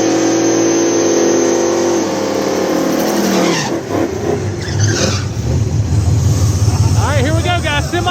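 A drag radial Camaro roars loudly down the top end of a drag strip at a Carolinas drag meet, its engine note sweeping past and fading as it goes. Crowd noise and faint talk run underneath.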